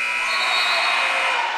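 A high school basketball game-end buzzer sounds as one steady, loud, sustained electronic tone, continuous for the whole stretch over faint arena noise.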